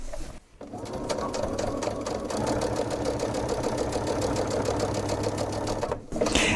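A Baby Lock sewing machine fitted with an Ultra T foot stitches steadily and rapidly up close, a continuous mechanical whir that starts after a brief pause and stops near the end.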